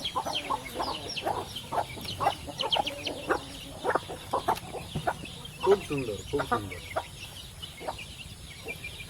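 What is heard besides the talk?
parrot-beak chickens clucking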